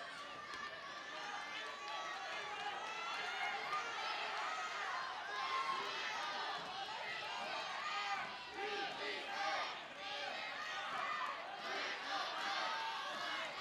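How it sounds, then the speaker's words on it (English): Packed gym crowd at a high school wrestling match between Milton and Stoughton, a dense, continuous din of cheering and shouting voices with surging swells throughout. "Great crowd, electric atmosphere as always when Milton and Stoughton get together"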